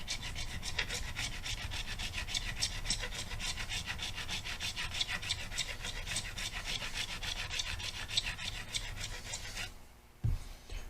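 Guitar frets on a Stratocaster neck being leveled with a sanding bar, a steady rapid back-and-forth rasping scrape at close range, continuous for several seconds before stopping briefly near the end.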